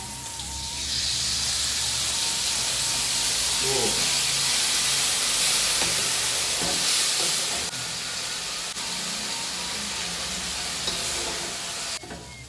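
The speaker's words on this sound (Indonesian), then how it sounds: "Setelah wangi, kita masukin sardennya." Sardines dropped into a hot frying pan with garlic, shallots, ginger and tomato set off a loud, steady sizzle and hiss that rises quickly and holds close up, with faint stirring underneath.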